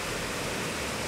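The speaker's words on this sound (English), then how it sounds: "I'm following the river that I told you earlier." A river rushes near a waterfall in Kianyaga, making a steady, dense roar of broadband water noise that stays constant and close.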